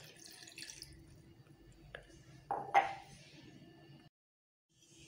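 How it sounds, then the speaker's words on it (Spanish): Half a cup of water poured into a small pot on a home stove, a soft splashing trickle with a brief louder gush near the end before it falls silent. "echas media taza de agua"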